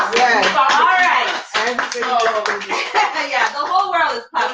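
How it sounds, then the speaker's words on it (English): An audience claps steadily through a dating talk show, a continuous smattering of applause under a voice speaking over it, briefly pausing before resuming. "the whole world is clapping for that one"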